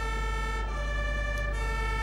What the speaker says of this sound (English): I'm gonna use my flashing lights and my sirens.